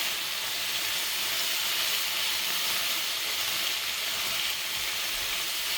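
Southern Thai curry paste sizzles and fries in a pot over heat, a loud, steady hiss with bubbling crackle that holds evenly throughout, with no talking.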